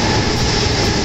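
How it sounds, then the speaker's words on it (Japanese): A freight train rolls past at a railway station close by, a loud, continuous roar of rail noise with rumbling wheels and no voices over it. "今貨物が通過してるんですけど"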